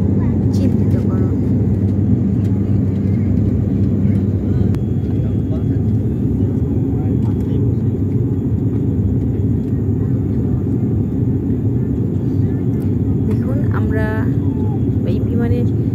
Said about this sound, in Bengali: এই বিমানের থেকে দেখা যাচ্ছে যে আমরা মাটির খুব কাছাকাছি দিয়ে এখন বিমানটি উড়ে যাচ্ছে।